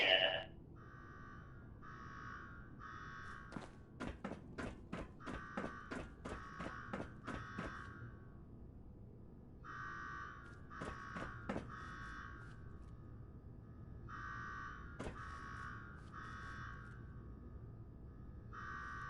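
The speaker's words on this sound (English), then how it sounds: "Now go shut off that damn alarm." An electronic alarm in the video game Fallout repeats in steady two-tone bursts, joined midway by a quick stuttering run of sharp clicks, then keeps pulsing alone.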